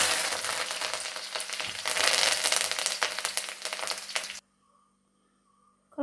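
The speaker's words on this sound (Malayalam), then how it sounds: "നമുക്ക് കറിവേപ്പില ഇട്ട് വറക്കാമേ." Curry leaves crackle and sizzle loudly in hot oil, a dense popping spatter that swells and continues for several seconds before stopping suddenly into near silence.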